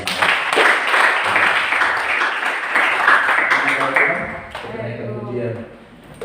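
A congregation at a church service applauds in a dense, loud burst that fades after about four seconds, giving way to a voice speaking over quieter tones.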